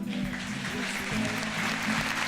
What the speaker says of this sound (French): Donc c'est plutôt les enfants qu'il faut applaudir